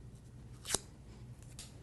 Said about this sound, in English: it just depends on which side of the petal you are running your scissors along